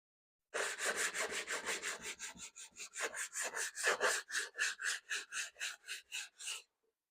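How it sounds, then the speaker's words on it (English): Rhythmic rasping strokes of old sandpaper scrubbing hardened body filler on a fiberglass part, about twenty even back-and-forth passes, close and steady, then stopping. "I want to test it with an old piece of sandpaper."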